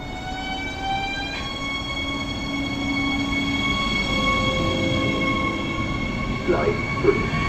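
A train in Germany rumbles along the track with a steady, fairly close roar, its wheels giving off high tonal squeals and hums that shift pitch, with a few clanks near the end.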